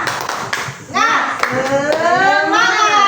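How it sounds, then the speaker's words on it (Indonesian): Sixth-grade schoolchildren in a classroom clap their hands in a quick, brief burst, then their voices rise into loud chanting and shouting that carries to the end. "Ya, tepuk tangan dulu."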